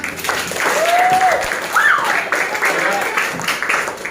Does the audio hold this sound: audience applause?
yes